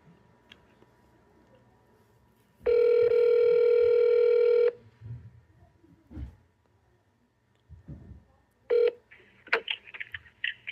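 Telephone call audio from a truck driver's call: a loud, steady two-second tone, faint muffled voices and noises, a short second beep, then a cluster of quick dialing tones.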